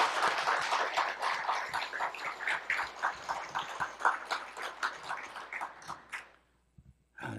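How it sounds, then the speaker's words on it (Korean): A church congregation applauds a retiring elder with dense, steady clapping for about six seconds, which then thins and fades to near silence. "한번 박수로 격려 한번 하시죠."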